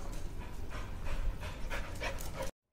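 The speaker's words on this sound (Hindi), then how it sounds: "वहां पास के डॉग इस ब्रूनी को भौंक रहे हैं." Dogs outdoors near a stadium at sunset, heard as steady heavy panting with faint whimpers rather than clear barks, close and continuous until it cuts off abruptly.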